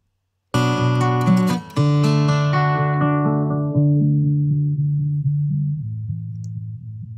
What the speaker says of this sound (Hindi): ये मेरा लो पास फिल्टर है